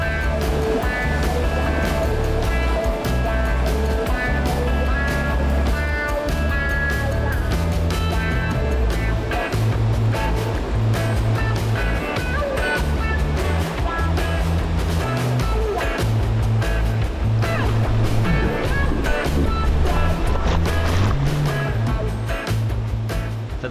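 Ocean surf at Strickland Bay on Rottnest Island, a constant loud wash of breaking waves mixed with steady engine-like rumble, dense and unbroken throughout.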